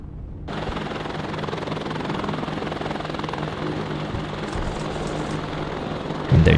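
A helicopter in the war strategy video game WARNO drones with a steady rotor hum, mid-distance, joined near the end by a sudden burst of gunfire.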